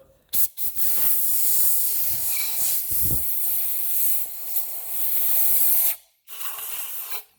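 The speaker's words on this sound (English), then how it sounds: "There's a bunch of crap inside there, so we'll blow this side off in the cylinder." Compressed air blasting debris out of a cylinder on a Subaru EJ boxer engine during a teardown: a near, loud, sustained hiss broken by a few brief pauses, then a final shorter burst.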